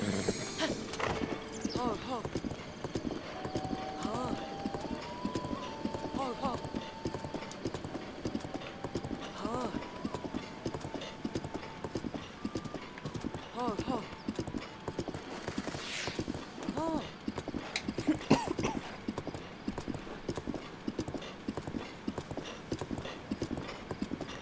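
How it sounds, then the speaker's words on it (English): Horse hooves clip-clop in the video game Breath of the Wild, a steady rhythmic trot with a whinny heard along with faint game music and someone talking. "Let's just get on and off the horse repeatedly."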